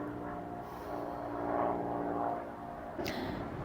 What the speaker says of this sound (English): the plane is going overhead